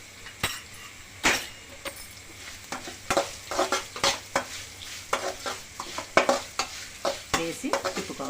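Sliced okra fried with salt and turmeric is stirred in a pan, a close, soft sizzle broken by frequent scraping and clinking strokes of the spatula that grow quicker and busier toward the end.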